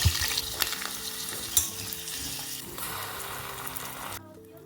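Onions and peppers, then mushrooms, sizzling and crackling in a hot pan, with occasional scraping and stirring clatter, close up, before the sizzle fades at the end.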